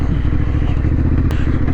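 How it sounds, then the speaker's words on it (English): Motorcycle bouncing over rocks on a rutted trail in the upper Rye Dale valley, its engine a loud steady drone close by, broken by rapid clattering thumps and one sharp knock. "the bike is just bouncing from rock to rock"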